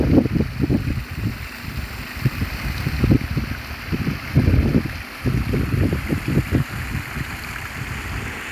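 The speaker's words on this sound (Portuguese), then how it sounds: "só pra mostrar pra vocês a força da água" Rushing water pouring from a burst dam reservoir, a loud, continuous turbulent roar with gusty surges, heard close by and alone.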